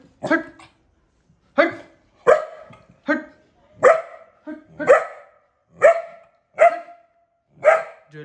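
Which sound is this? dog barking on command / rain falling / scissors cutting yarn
dog barking on command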